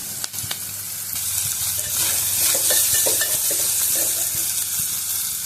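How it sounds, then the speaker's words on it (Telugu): Turmeric stirred into garlic frying in a pan, a steady sizzle with repeated scraping and clinking of a spoon, close and continuous, without talk. "ఇప్పుడు పసుపు వేసేసుకుందాం."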